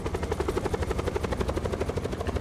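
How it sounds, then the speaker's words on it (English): Helicopter in the Call of Duty Black Ops 4 Blackout video game, its rotor thudding in a fast, even rhythm, loud and continuous with a steady engine whine underneath. "Okay, I can fly a helicopter in this game."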